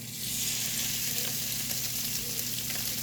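Grilled chicken sears presentation side down in a skillet preheated over medium-high heat, giving a loud, steady, close sizzle and crackle with no one talking.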